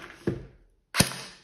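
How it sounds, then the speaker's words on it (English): A Tokyo Marui HK USP .40 airsoft electric pistol from 2009 dry-fires without a BB: two sharp, close mechanical clacks about three quarters of a second apart, the second louder. "The first shot will be without BBs because the nozzle has to load one."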